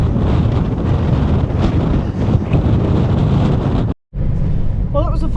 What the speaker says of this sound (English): Super windy. Literally gale force winds today